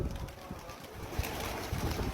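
Racing pigeons coo in a loft, low soft throaty calls repeating a few times close by against quiet airy background noise, with no speech.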